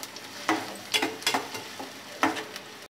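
Onions frying in a pan for a boti curry, a quiet background sizzle with a handful of louder stirring scrapes spaced irregularly, no talking.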